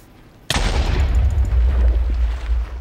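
A single artillery gun fires down range, one sudden loud blast followed by a long rolling, rumbling echo that fades slowly.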